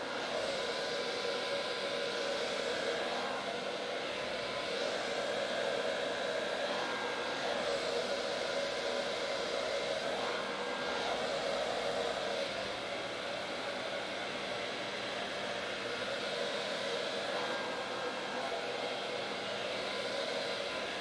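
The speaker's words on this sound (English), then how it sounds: "I'm going to stand above it with the blow dryer on hot" A blow dryer set to hot runs in a continuous, steady rushing hiss for the whole stretch, drying alcohol ink on a gold metallic canvas, with no talking.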